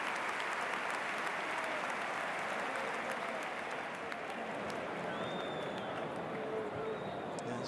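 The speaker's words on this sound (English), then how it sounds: "Big round of applause for Edu Alonso from the home side." A football stadium crowd at a La Liga match between Athletic Bilbao and Real Madrid applauds a substituted home player, a steady, distant wash of clapping that holds evenly throughout.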